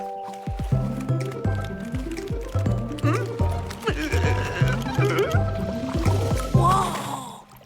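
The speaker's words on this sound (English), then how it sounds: "It's a really bad leak." Water leaking inside a castle drips in a steady, repeating pattern of plinking, squishy drops, loud and close, each landing about every half second, with a bright splashier burst near the end.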